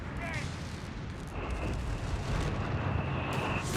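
Whizbang rocket artillery launching in Company of Heroes 3, a dense rumbling barrage of blasts that swells and stays loud to the end, with a thin high whine of rockets in flight over the continuous booming.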